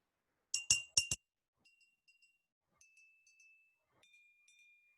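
Glasses filled with different levels of water are tapped with a stick: a few bright, loud clinks, then several fainter ringing tings at different pitches, each tone sustaining briefly in a quiet room.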